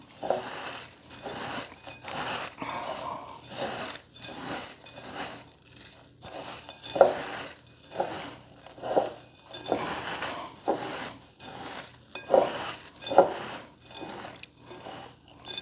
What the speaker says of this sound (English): we're gonna mix that pretty well. Just kind of trying to form it like a crumble here